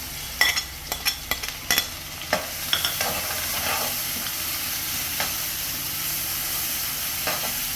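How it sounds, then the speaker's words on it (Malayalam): Shallots, garlic, crushed dried chilli and curry leaves fry in coconut oil in a pan, starting with a run of sharp crackles and spatula scrapes, then settling into a steady, even sizzle. "നന്നായി മൂത്ത് വരട്ടെ."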